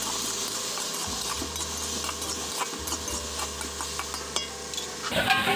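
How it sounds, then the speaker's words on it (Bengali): A pan of vegetables with green peas, turmeric and chilli for a Bengali vegetarian bori dish is stirred steadily, with a continuous scraping rustle over a soft sizzle and a low background hum. "নেড়ে চেড়ে দিচ্ছি।"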